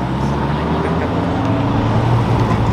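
A Mazda RX-7 sports car passes close by at night in Dallas, a loud, dense engine and road roar with a steady low hum that holds throughout.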